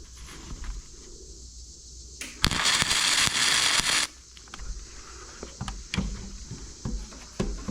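A Sefaspe MIG 205 DS welder runs flux core wire at 16.5 volts, giving one loud, close burst of crackling arc lasting about a second and a half, set among quieter clicks and handling noises.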